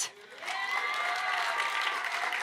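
An audience at a Recovery Month poetry event claps together in a steady burst of applause, moderately loud and continuous for a couple of seconds.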